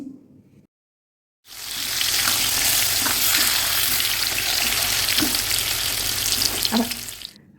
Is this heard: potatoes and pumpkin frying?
yes